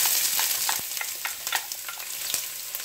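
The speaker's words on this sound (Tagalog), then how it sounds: "Igigisa na po natin yung sibuyas." Onions sauté in a hot pan as the first step of Bicol express, a bright continuous sizzle up close, broken by light repeated scraping taps of a stirring spoon.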